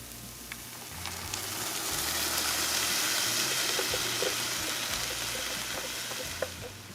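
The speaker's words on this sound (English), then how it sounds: "we're just gonna cook our onions until they soften up, about 2-3 minutes" Chopped onions with a corn mixture sizzling in a pan, a dense, steady hiss with faint crackles and pops throughout, close and even, no talking.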